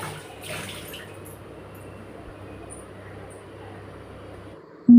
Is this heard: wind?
no